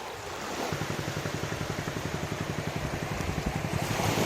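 Gentle sea waves wash steadily at Mandarmani beach, a continuous soft surf with a faint, regular low puttering running underneath throughout.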